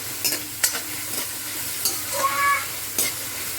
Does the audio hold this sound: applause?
no